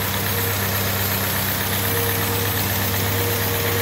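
A 1955 M38A1 army jeep engine with a freshly rebuilt Carter YS-950 S carburetor idles steadily, a loud, close, continuous mechanical drone with a constant low hum and no talking.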